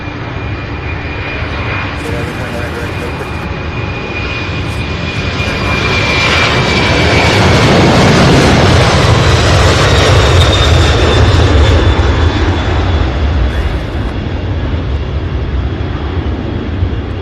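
A Boeing 747 jet airliner racing down the runway at Louisville SDF: a loud, building engine roar that peaks midway with a sustained high turbine whine, a near, heavy rumble sustained to the end.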